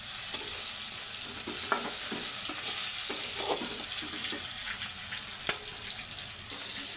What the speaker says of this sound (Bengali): এই যে আবার তেলাপিয়া মাছ ভাজতেছি